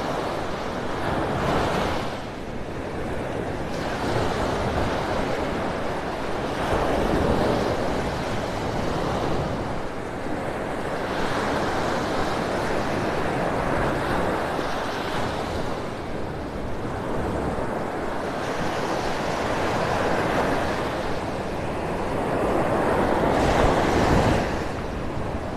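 Ocean waves breaking on Vanderbilt Beach in North Naples, Florida, at first light, a steady loud surf wash with swells rising every few seconds and wind rumbling across the microphone, no voices.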